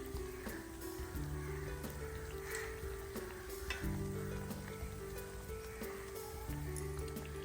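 Colocasia leaf rolls (aluvadi) deep-fry in hot oil with a steady, close crackling sizzle, while soft pops and spatters scatter through it and a low hum runs underneath.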